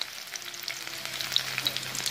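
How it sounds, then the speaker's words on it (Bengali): Sliced onions with a bay leaf frying in oil for a sheatfish, flat bean and potato curry, giving a steady close crackling sizzle with small pops and faint stirring, no voices. "আর সাথে একটু তেজপাতা দিয়ে দিলাম।"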